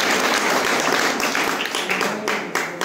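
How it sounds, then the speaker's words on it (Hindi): An audience at a pigeon flying tournament in Latur welcomes a speaker with brisk, crackling applause, many hands clapping close and steady before it thins slightly. "अभी तो आप रहीम सर का तालियों से स्वागत कीजिए."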